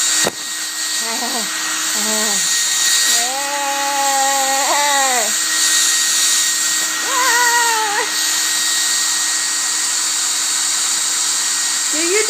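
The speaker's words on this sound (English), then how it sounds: "Do you defeat the hair dryer, Bama?" A hair dryer runs with a loud steady whine from start to finish, while people talk and a dog vocalizes in short bursts over it.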